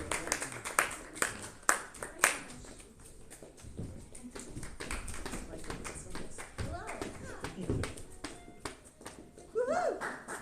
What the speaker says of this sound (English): Are you gonna clap like really loud?